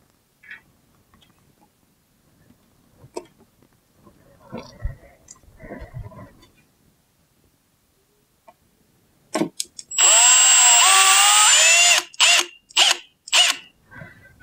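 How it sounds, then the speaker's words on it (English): A power drill drives a screw into a wall to hang a magnetic whiteboard. Quiet handling clicks come first, then a loud close motor whine of about two seconds, followed by several short bursts. "we're holding holding it against the wall so we can put our next screw in"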